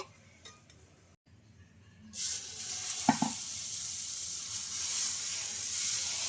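A millet dosa cooking on a pan over low flame. Quiet scraping comes first, then a brief pause, and after that a steady sizzle begins and holds, with a short clink of utensils partway through.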